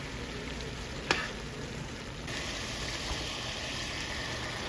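Meat for chalupas frying in a pan, a steady close sizzle with a stir and a clink partway through, no voices over it.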